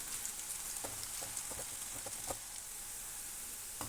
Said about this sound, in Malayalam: ഉള്ളി ഒരു ഗോൾഡൻ ബ്രൗൺ നിറമാകുന്നത് വരെ ഫ്രൈ ചെയ്തെടുക്കാം